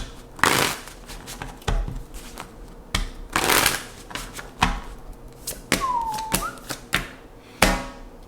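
Cards are shuffled and riffled up close in short bursts, with crisp snapping flurries, taps and slaps separated by brief pauses.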